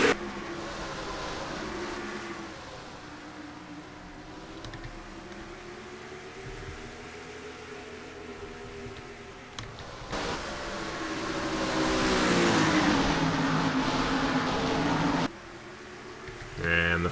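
Stock cars roar off the green flag at a short track in NASCAR Racing 2003, a continuous droning pack of engines that swells louder midway, with a commentator talking over it.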